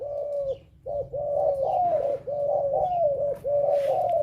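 A spotted dove, the Thai nok khao yai, coos in a steady run of deep, hollow notes with short gaps between them. The bird sounds close and loud against faint background hum, and no one speaks.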